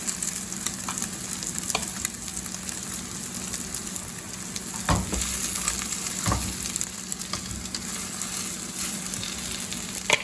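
Food sizzling and frying in a hot pan, a steady crackling hiss with occasional louder pops and stirring scrapes, close and fairly loud, no voices.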